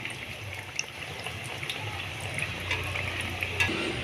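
Eggplant pakoras sizzle steadily in oil over a low flame, a soft continuous bubbling hiss with occasional small pops, close and fairly quiet, with no talking.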